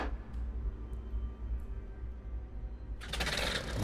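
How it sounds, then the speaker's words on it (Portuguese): Airship engines hum low and quiet in the Worlds Adrift game, then kick in near the end with a sudden louder, rattling surge. "Vou ligar aqui os motores."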